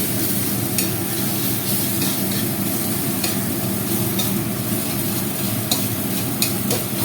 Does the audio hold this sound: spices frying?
yes